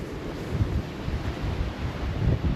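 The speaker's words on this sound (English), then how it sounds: "It's very windy at the beach." Strong wind buffets the microphone at the beach on Bribie Island, a continuous low roaring rumble with surf-like wash behind it.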